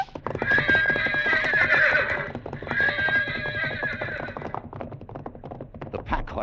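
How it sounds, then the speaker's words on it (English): Horses whinny loudly in an old 1949 CBS radio drama, two long neighs overlapping a rapid clatter of hooves that continues alone and fades as the animals rear and scatter. "horses reared at the shots."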